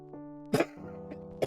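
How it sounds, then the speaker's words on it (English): Coughing fit: a few sharp, harsh coughs in quick succession, close and fairly loud, separated by short raspy breaths. "I'm getting a little bit of a coughing fit right now."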